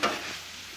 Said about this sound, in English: I can see them onions is, you know, kind of caramelizing there